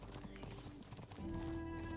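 Wooden cows in The Talos Principle 2 walk along with a steady, hollow clip-clop of hooves that sits close and clear over sustained tonal game music.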